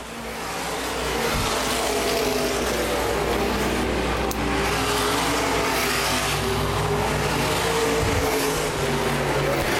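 Open wheel modified race cars roar around a speedway track during a feature race, with a steady, loud wash of engine noise and passing cars throughout, heard from a distance and with no talk.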